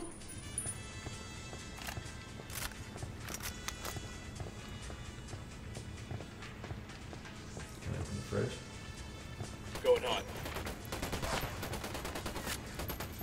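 Gunfire from the video game Ghost Recon Wildlands: scattered short shots and bursts at moderate distance over a steady game soundscape, with a sharper crack near the end.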